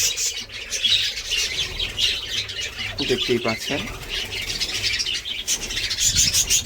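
Pet birds chirp and squawk steadily in high, bright calls throughout, with a person speaking briefly in the middle.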